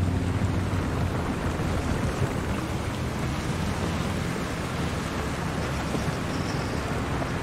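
Constant heavy video game rainfall in Far Cry 2 hissing steadily with a low rumble underneath, even and unbroken, no voices.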